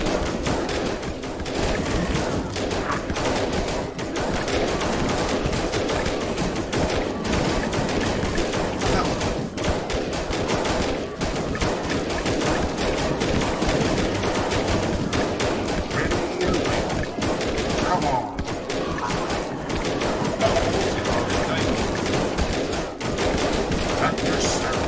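Soldiers in the strategy game They Are Billions fire without pause, a dense wall of overlapping gunshots and machine-gun rattle that stays loud and unbroken for the whole stretch.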